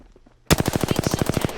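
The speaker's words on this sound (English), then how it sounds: "Being shot at." Incoming automatic gunfire in the video game Apex Legends starts abruptly as a rapid, even burst of about a dozen loud shots fired close together.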